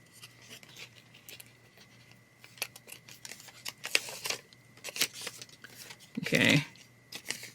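Paper trimmed with scissors while a creative journal for the year is being set up, a few quiet snips and rustles up close, ending in one louder, longer cutting burst.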